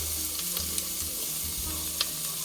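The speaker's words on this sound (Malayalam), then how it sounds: "നമ്മൾ കടുക് ഇടുകയാണ്. വെളുത്തുള്ളി ഇടുകയാണ്." Mustard seeds and garlic fry in hot oil with a steady, close sizzle and a few small pops, made while preparing a homemade green apple pickle.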